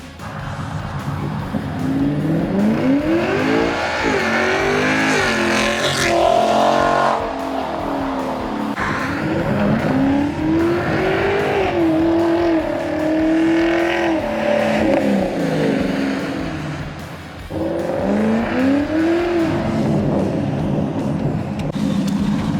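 A 1976 Ford F100 truck makes repeated high-speed passes along a road, its engine loud and close, revving up and falling away as it roars by several times in a row.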